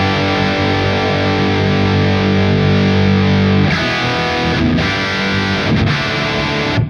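Heavily overdriven electric guitar through a Soldano SLO Plus overdrive pedal, dialed in for a saturated metal tone, sustained chords ringing out with a couple of short chugging breaks near the end; loud and dense, no talking.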